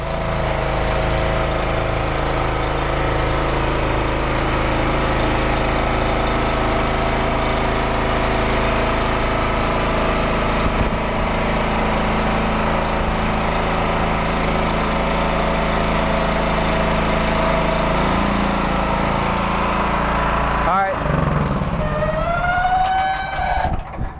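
A heavy engine on a Stamm Manufacturing Bridgemaster lift runs steadily for a long stretch, droning and rumbling nearby, then a brief whine and mechanical shift occur near the end.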